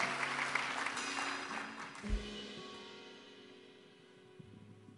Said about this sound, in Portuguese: Agora pode aplaudir o Senhor bem forte.